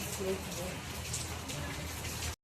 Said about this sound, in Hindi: देखिए कितनी बारिश हो रही है।